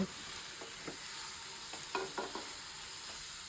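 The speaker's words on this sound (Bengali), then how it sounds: "মশলাটা কষানো হয়ে গেছে কই থাকতেছে এখন ডিমগুলো দিয়ে দেব" Eggs frying in a pan of cooked-down masala for an egg masala, with a faint steady sizzle and several soft scraping stirs of a utensil.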